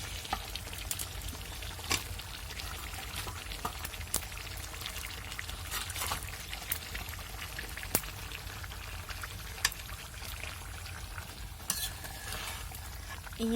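Deshi chicken being sautéed and stirred in spice masala, with continuous sizzling and repeated scraping stir strokes that come in an irregular rhythm, close and fairly loud, with no talk.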